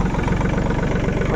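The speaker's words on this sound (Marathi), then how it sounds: "तर आता आपण ट्रॅक्टर सुरू करूया।" A Swaraj Target 4x4 tractor engine idles with a steady, fast low thudding pulse, close and loud throughout, with no talking.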